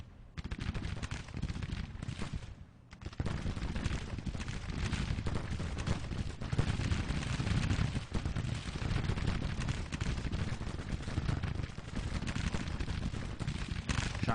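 Continuous crackling musket fire from lines of skirmishers in a Civil War strategy game battle, dense overlapping shots rolling on without pause, loud and sustained with a brief lull near the start.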